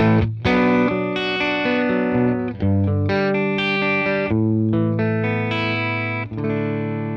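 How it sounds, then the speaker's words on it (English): Overdriven electric guitar through a solid-state Fender Tone Master Twin amp with attenuation up and volume boosted, playing loud sustained chords and riffs with a warm, gritty drive tone and no talking. "if you turn the attenuation up and boost the volume, you get some nice drive sounds as well, even from this solid state amp"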